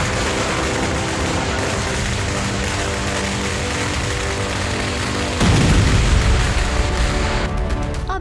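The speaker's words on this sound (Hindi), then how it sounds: "दिवाली का मौका है तो पटाखे फूटने ही चाहिए" Dense, continuous crackling and popping of Diwali firecrackers bursting, with a heavier, louder barrage of bangs kicking in toward the end.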